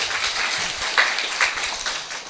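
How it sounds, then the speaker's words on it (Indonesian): Audience at an Indonesian talk show about studying abroad claps briefly, a soft, steady patter of applause with a few sharper claps standing out. "Jadi tepuk tangan dong."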